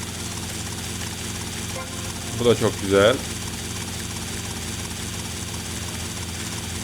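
Helicopter in the video game GTA Vice City, a steady droning engine and rotor rumble running throughout at even loudness, with someone briefly speaking over it midway.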